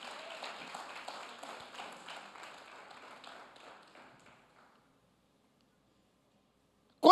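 A church congregation claps together in a steady, rhythmic burst of applause that fades out after about four seconds, then silence until a sudden loud sound at the very end.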